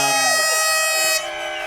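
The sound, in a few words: air horns blowing at motocross event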